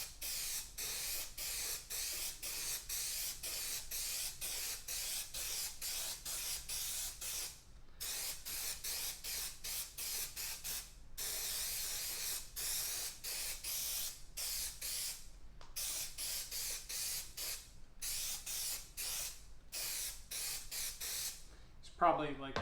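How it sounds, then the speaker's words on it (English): Headliner adhesive being sprayed from an aerosol can onto a Mustang interior panel, in repeated short hissing bursts with brief gaps between them, steady and close. "we're just using some headliner material spray"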